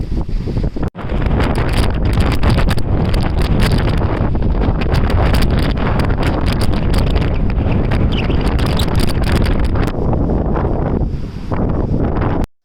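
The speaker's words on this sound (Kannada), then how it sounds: "ಇವತ್ತು ಸಲ ಗಾಳಿ ಪುಷ್ ಮಾಡ್ತಿದೆ ನಮ್ಮನ್ನ, ನಂಗಂತೂ ಫುಲ್ ಗಾಳಿ ಆಗ್ತಿದೆ" Strong coastal wind at Gokarna roaring and buffeting the microphone continuously, a dense, loud rumble with a brief dip near the start before it surges back.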